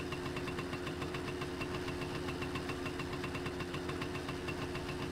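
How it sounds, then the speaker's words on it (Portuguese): A motorcycle engine idles in the driving game My Summer Car, a steady, fairly quiet, even-paced rumble with no talk over it. "Pronto, moto ligada."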